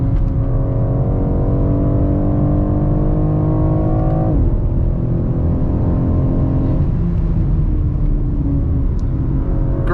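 A 2023 BMW X4 M Competition SUV accelerating uphill near the Nurburgring, its engine droning loud and steady from inside the cabin, rising in pitch through the gears with a brief dip at a shift, without talk.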